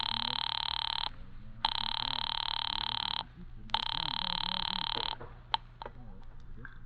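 A telephone rings three times in a 1944 radio suspense drama, each long electric bell burst separated by a short pause, loud and close, ending in a few quieter clicks.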